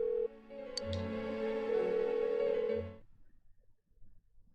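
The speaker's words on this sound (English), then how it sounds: "Why won't she pick up the phone?" A phone rings unanswered in Persona 4 Golden, a steady electronic ringtone lasting about three seconds over quiet music before cutting off into near silence.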